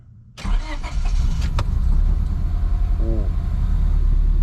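A car engine cranks and catches abruptly, then settles into a steady, loud running idle after a single-piston replacement; a brief voice exclaims at the start.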